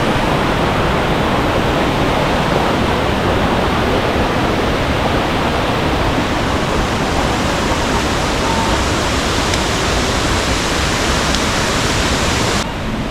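Bottom falls at Ng Tung Chai roar as a dense, steady wash of falling water, loud and close, with no break or voices throughout.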